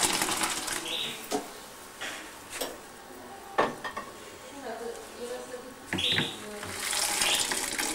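Cooked pasta is drained in a sink: water splashes and rushes irregularly, with soft clatters and a few louder surges as the pot is tipped.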